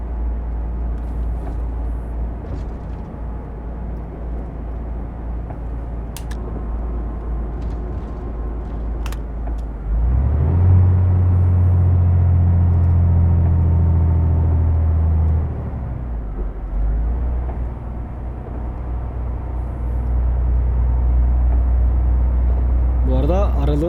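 A Ford F-Max truck engine in Euro Truck Simulator 2 on Nordic roads drones steadily as the truck coasts, swelling to a deeper, louder rumble midway and again near the end, with a voice talking over it.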